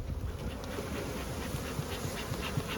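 Honey bees buzz steadily inside a hive, a dense, close, continuous drone that holds an even level throughout.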